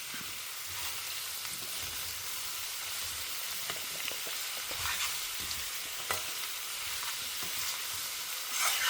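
Ingredients sautéing in a pan in a home kitchen, a steady bed of sizzling frying with occasional clinks and scrapes of stirring, close and continuous without talk.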